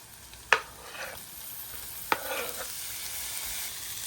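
Fried rice fries on a hibachi griddle with a steady, close sizzle. Two sharp metallic spatula clacks punctuate the hiss, and there is no talk.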